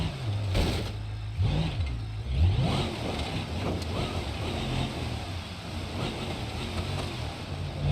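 Powerful truck engine in BeamNG.drive revving loudly and continuously, with pitch sweeps as it accelerates and shifts, a steady low drone running throughout.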